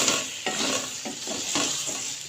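Bitter gourd and onion being stirred in a sizzling pan, a utensil scraping in repeated strokes about every half second over a steady frying hiss, close and alone.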